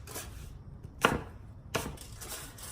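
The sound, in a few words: knife chopping Honeycrisp apples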